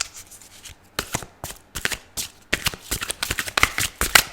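Tarot cards are shuffled by hand in a run of quick, papery riffles and slaps, close and fairly loud, growing busier toward the end with no voices.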